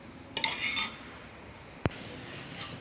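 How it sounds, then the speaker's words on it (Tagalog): Metal utensils clink against a pot while mung beans are sautéed, with a cluster of quick chinks followed by a single sharp knock, all quiet and close. "Ginisa natin yung munggo."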